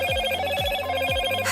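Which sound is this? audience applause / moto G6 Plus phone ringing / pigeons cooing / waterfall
moto G6 Plus phone ringing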